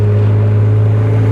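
A motorboat's engine runs on the water in Komi, a loud close steady low drone with a deep hum and constant wash of wind and water.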